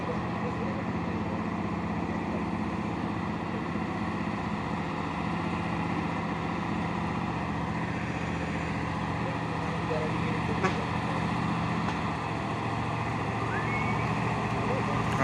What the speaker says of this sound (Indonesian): dump truck Puso.